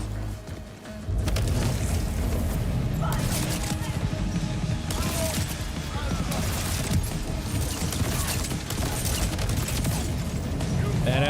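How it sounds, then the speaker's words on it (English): Video game gunfire from Borderlands 4, dense bursts of shots and mechanical clatter layered over a busy, loud combat mix that runs almost nonstop after a brief quiet opening. "Stand still and let me shoot you."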